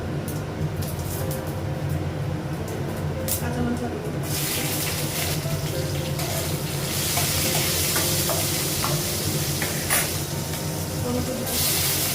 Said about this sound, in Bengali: নাড়লে খুব আওয়াজ হচ্ছে